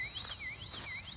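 A small battery deer deterrent gadget in a wet, muddy fruit orchard emits a continuous warbling electronic beep that sweeps up and down in a steady repeating cycle, fairly close and alone.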